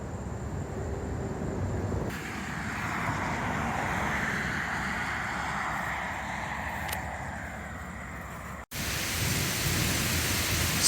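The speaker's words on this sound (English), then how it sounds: "we are getting quite a bit of thunder off in the distance" Thunder rumbles in the distance during a storm on a farm, a long low roll under steady rain hiss that cuts off briefly near the end before the rain resumes.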